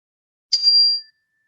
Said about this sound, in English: I'm going to ring the chime one more time